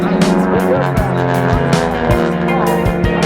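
Aerobatic airplane engine at an outdoor airshow, its loud, steady buzzing drone holding close and strong with small shifts in pitch while the plane rolls upright; no talk.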